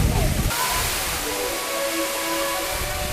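A waterfall rushes in a broad, steady roar heard from close by, continuous and loud, with faint tonal background sounds mixed in.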